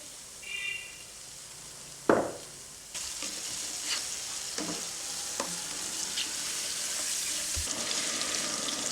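Chopped tomatoes and biryani masala frying in a pan for egg biryani, a steady sizzle with several scraping stirs and a sharp knock early on, continuous and close.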